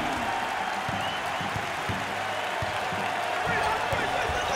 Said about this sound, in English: Well, listen to those fans. The crowd is thunderous.